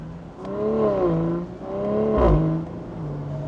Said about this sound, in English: You can hear that the valves automatically open around 3000 RPM, but under that it's closed.